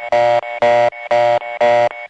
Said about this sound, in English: the same reorder tone on a number 1 crossbar system might sound like this.